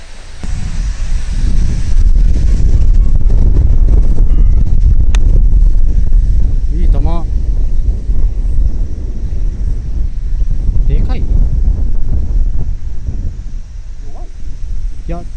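Gusty wind buffets the microphone on a golf course, a steady low roar throughout with brief quieter lulls, while people talk faintly in the background.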